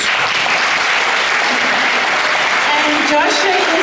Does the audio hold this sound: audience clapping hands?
yes